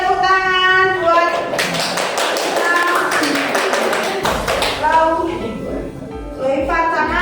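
Classroom students clapping at a teacher training session, a burst of taps and claps mixed with voices talking over it, fairly close and steady, fading slightly toward the end.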